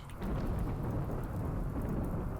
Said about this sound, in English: Oh, is it raining? It is.